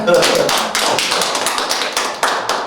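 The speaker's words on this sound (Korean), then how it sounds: "자, 요쯤에서 우리 모두를 위해서 박수 한번 칠까요?" A small group clapping together during a Korean art talk show, a dense burst of overlapping claps that thins into scattered hand taps, close and fairly loud.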